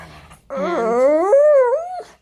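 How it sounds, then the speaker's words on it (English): Excited pug letting out one drawn-out, high whimpering whine that rises and wavers for about a second and a half, very close and alone. "he's a very, very naughty pug who's very excited to be on my lap"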